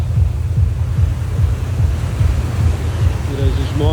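Sea waves wash onto a beach in Goa, India, on a warm evening: a steady, close low surf roar mixed with wind buffeting the microphone, continuous for the whole stretch.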